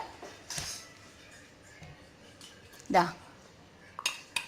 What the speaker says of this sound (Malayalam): അപ്പം ഞാൻ എൻ്റെ മിക്സിയുടെ ജാർ എടുത്തിട്ടുണ്ട്.